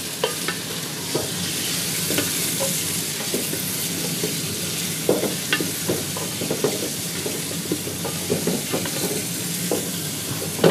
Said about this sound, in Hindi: और प्याज़ों के अंदर इसकी भुनाई करूँगी।